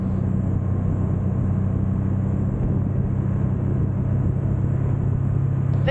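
Triumph Rocket 3 Storm motorcycle engine pulling hard in third gear, a loud continuous low rumble with steady road and wind noise and no clear pitch change.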